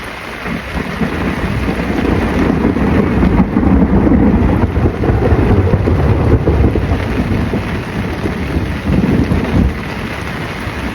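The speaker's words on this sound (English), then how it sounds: "now we're getting accompanied by thunder and lightning as well" Steady heavy rain pours down around a fishing shelter at a lake, with low rolling rumbles of thunder swelling beneath the downpour; continuous and fairly loud, no voices.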